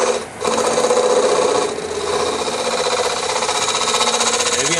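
A powered rotary cutter grinds wood away from a carved wooden cube, giving a steady loud buzzing whine that dips briefly near the start and again shortly after, with no talking.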